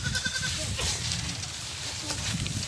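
A goat bleats in an outdoor rural setting amid background noise, with a short wavering cry near the start and further faint bleating over a constant noisy bed.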